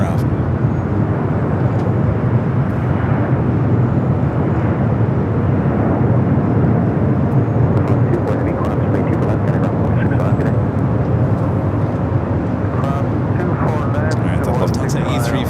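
Airplane at Los Angeles LAX airport, a loud, sustained broad roar of jet engines throughout with rising whine toward the end, a voice talking over it.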